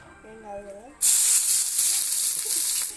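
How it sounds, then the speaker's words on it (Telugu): Onions dropped into hot oil for a chicken pepper fry set off a sudden loud, steady sizzle that starts partway through and keeps hissing without letup; a short voice is heard just before the sizzle begins. "సో ఆయిల్ హీట్ అయిన తర్వాత ఆనియన్స్ యాడ్ చేసుకోవాలి"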